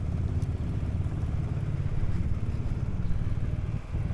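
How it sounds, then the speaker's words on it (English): Engines of passing bikers' motorcycles on a mountain pass road, a steady rumbling drone that holds close and fairly loud throughout with a slight dip near the end. "Let's let those bikers go first"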